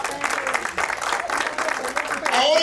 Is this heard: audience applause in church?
yes